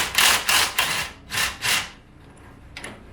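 A wrench ratchets down a sway bar bracket bolt on a Can-Am Maverick X3 in a series of short, close scraping bursts, then a quieter pause and one last faint stroke.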